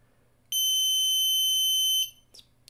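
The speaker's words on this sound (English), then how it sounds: "when I cover it up, you can hear the buzzer" A piercing electronic buzzer from a CogsWorth City Kit, triggered when its light sensor is covered, sounds one steady, shrill tone for about a second and a half, then cuts off, followed by a couple of faint clicks.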